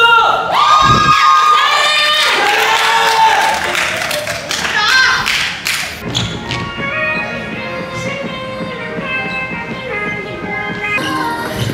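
A crowd of high school girls at a school performance claps and cheers loudly, with shouting and excited voices, then the applause settles into lighter clapping under ongoing chatter.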